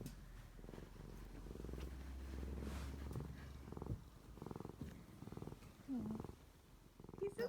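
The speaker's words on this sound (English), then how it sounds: "I will move on to my last pet, which is, of course, my very own, very sweet kitty" A pet cat purrs close up in a soft, steady rhythmic rumble of repeated breaths, faint throughout with slight shifts in texture.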